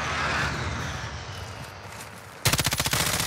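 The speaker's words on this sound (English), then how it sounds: "They're shooting the helicopter." Gunfire in a video game aimed at a helicopter: a steady roar gives way to a loud, close burst of rapid automatic shots firing in an even rhythm.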